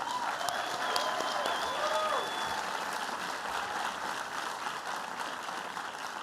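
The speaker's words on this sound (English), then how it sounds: "Let's applaud our dedicated faculty and staff." Audience applause for faculty and staff at the 2025 LMU Día de Reconocimiento ceremony, a steady dense clapping that fills the whole stretch at moderate loudness, with some faint crowd murmur beneath.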